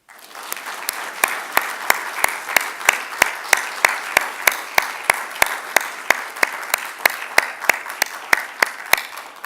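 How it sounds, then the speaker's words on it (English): Applause at a law school lecture, sharp, distinct claps landing at a quick, fairly even pace, close and crisp, with no voices over it. "please join me in a round of applause for Judge Keith."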